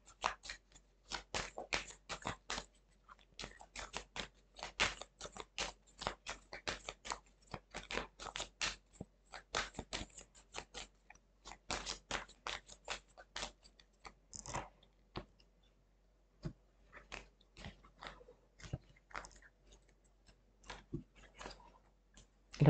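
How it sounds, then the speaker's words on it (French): Oracle cards are shuffled and drawn in a quiet room, producing a long run of soft, rapid clicks and flicks in irregular bursts with short pauses. "je vais vous tirer les cartes de l'oracle, du grand oracle de l'amour"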